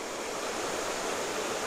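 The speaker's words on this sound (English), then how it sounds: "It just goes out the back side of the spring here and into the spring creek." Spring water pours steadily out of an Ozarks spring into a creek, a dense, continuous broadband rush heard close and alone, with no voices.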